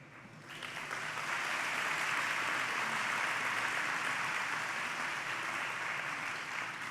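A luncheon audience at a women's fundraising event applauds itself, the clapping swelling quickly into a broad, steady roar that holds at a moderate distance until the end.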